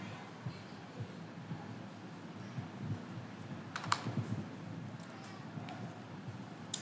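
Someone types on a computer keyboard while writing an HTML anchor tag in a coding lesson. The keystrokes are quiet and irregular, with a few sharper clicks, over a faint room hum.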